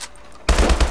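Hip-fired shots from a weapon in Call of Duty: Advanced Warfare break in after half a second of quiet: a loud, close, rapid burst of about four evenly spaced shots that runs to the end.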